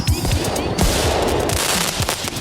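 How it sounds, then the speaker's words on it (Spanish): Rapid booming blasts and crackling bursts ring out in a stadium scene from a Spanish-language audio drama, a dense volley of sharp explosive hits over about two seconds. "dos explosiones de gran tamaño ensordecieron el estadio"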